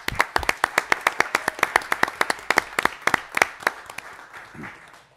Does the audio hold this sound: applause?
yes